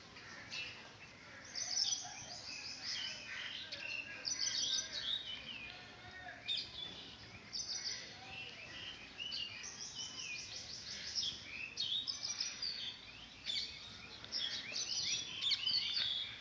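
Sparrows bathing in water pooled beneath a slab being watered chirp continuously in a busy overlapping chorus, with bright repeated tweets at moderate distance throughout.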